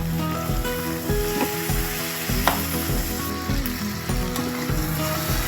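A pumpkin and jaggery curry with coriander being stirred in a pan, steady close sizzling and frying with rhythmic scraping strokes of the spoon repeating about every half second, no talking.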